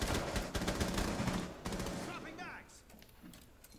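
Several players fire at once in Rainbow Six Siege during a hostage round, making dense, rapid automatic bursts that stay loud at first and then thin out and fade, with voices talking beneath.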